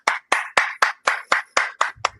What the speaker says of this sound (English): I'm also giving you a round of applause